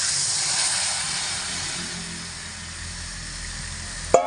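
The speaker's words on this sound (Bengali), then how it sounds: "এবার আমি এর মধ্যে দিয়ে দেব উষ্ণ গরম জল।" Warm water poured into a pan of kabuli chickpeas that have been frying for ghugni gives a steady, loud hiss and sizzle. It fades slightly over several seconds and ends in a brief clatter.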